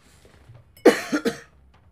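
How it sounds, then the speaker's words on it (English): A single short, close cough bursts out in two or three quick rasping pushes during a Call of Duty Modern Warfare 2 gaming session, with a quiet room and faint background hum around it. "This cough's killing me."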